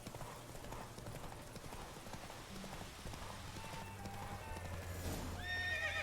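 A horse in a fantasy video game (The Witcher) clip-clops along with steady hoofbeats and then lets out a bright, drawn-out whinny near the end, under faint ambient game sound.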